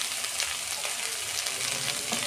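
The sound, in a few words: turmeric added to frying shrimp in a pan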